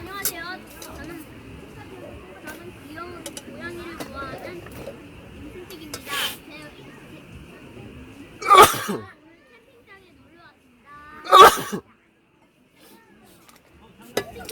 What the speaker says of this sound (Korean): 이 봄만 되면 이 알러지가 도져가지고 재채기가 자꾸 나와서 아주 죽을 맛입니다.